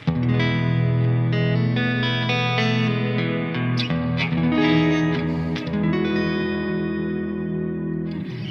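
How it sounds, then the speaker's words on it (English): Ambient electric guitar washed in delay and reverb, notes blurring into a sustained shimmering pad with echoing repeats, played alone at moderate volume. "I have my bass ambient guitar sound"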